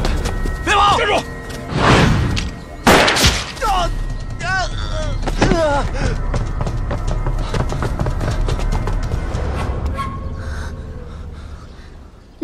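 Gunshots ring out in a Chinese anti-Japanese war film, with sharp, loud cracks and thuds early on among gasps and scuffling, followed by a denser stretch of action noise with voices.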